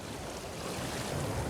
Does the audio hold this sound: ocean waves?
yes